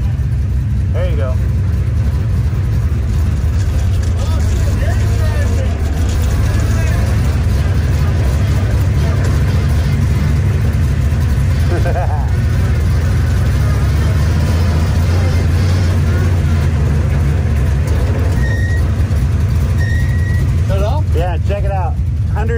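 A Chevelle stock car's engine runs loud and close, droning and revving steadily from a cabin viewpoint while drifting, with people talking over the engine noise.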